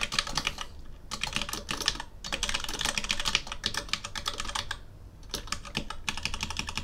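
Steady bursts of typing on a computer keyboard while setting up a Brilliant Labs Monocle HUD/AR device, clattering in quick runs with brief pauses between them, close and clear with no talking.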